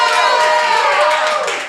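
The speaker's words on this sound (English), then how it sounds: "you are now clapping, raising the energy" Applause from an audience at a live poetry and open-mic show, a dense, steady wash of many hands clapping together that holds loud for nearly two seconds before easing slightly.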